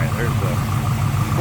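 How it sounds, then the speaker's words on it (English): A 1971 Chevrolet Chevelle Malibu SS 454 with its 365-horsepower V8 idles steadily, a low, even rumble throughout the short stretch, with someone talking over it. "I want to pop the hood for you guys and check out this engine"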